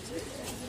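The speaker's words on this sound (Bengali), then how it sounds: "কামাল ভাইয়ের ছাদের খুবই বিগ সাইজের একটি কবুতর" A large pigeon on a rooftop gives a short, low cooing call, brief and fairly close, with a voice talking over it.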